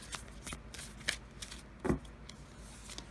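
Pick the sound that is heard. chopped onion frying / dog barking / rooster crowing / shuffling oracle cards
shuffling oracle cards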